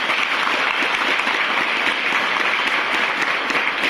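A crowd claps in steady, dense applause at a Youth Foundation event in Kotdwar, a loud continuous patter lasting the whole stretch with no voices.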